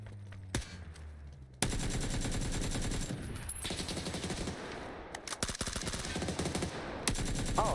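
Automatic gunfire in PUBG on console, long sustained bursts of rapid shots filling most of the stretch after a brief quiet start, loud and close with a few short gaps between volleys.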